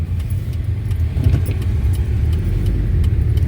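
A car drives along a road on the way home from Büdingen, a steady low engine and tyre rumble continuing throughout at close range, with light jingling of keys heard now and then.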